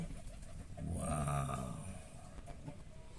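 Pigeons coo softly nearby, a low, rolling warble that swells in the middle and then fades, with no talking.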